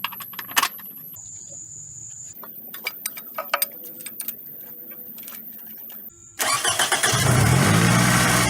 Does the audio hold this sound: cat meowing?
no